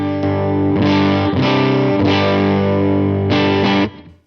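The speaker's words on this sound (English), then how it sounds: "This is just a good way to add some sparkle and get some clean boost." Electric guitar played through a Vertex Effects Boost pedal set for clean boost, with a few bright, sustained strummed chords ringing out loud and close before stopping.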